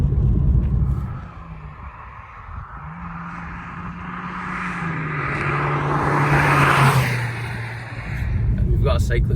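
Peugeot 206 GTI engine droning steadily while driving, a low rumbling tone that rises and falls in pitch as the car accelerates, with a voice talking over it throughout.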